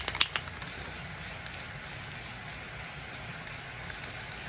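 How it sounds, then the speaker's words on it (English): White spray paint hisses steadily from an aerosol can onto a glitter tumbler in a series of close, continuous bursts with a few louder pulses at the start. "I'm gonna go in with just white spray paint"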